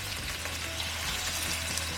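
Pork belly laid fat side down in a wok of hot oil, frying with a loud, continuous close-up sizzle and crackle and no talking over it.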